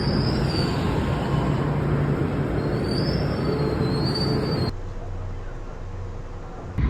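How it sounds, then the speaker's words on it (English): A Mexico City train rolls along the rails with a loud, steady roar and high wheel squeals, then the noise drops abruptly to a quieter rumble near the end. "get on the train going the other direction, which is what I'm doing now"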